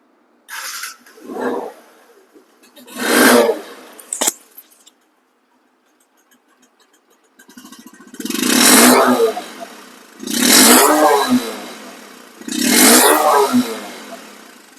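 A second-hand Bajaj Discover 125cc motorcycle in showroom condition revs up in five separate bursts, each rising and falling with quiet gaps between them, close by and with no talking.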